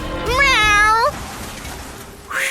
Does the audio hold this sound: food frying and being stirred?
no